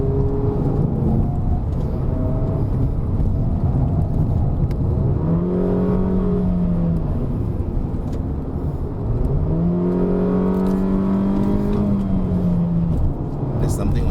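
A Peugeot 3008 SUV climbs a mountain road, with a steady engine hum under the cabin noise and a rising whine that drops and climbs again as the gearbox shifts up twice, while people talk inside.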